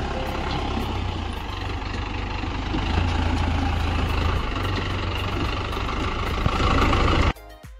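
A car engine idles after being driven out of a river, a steady low rumble heard up close with outdoor background noise before it cuts off abruptly near the end.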